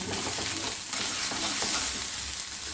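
Rohu fish kalia being stirred after jeera powder is added, a dense, steady sizzle of frying masala with scraping strokes through it, close and continuous.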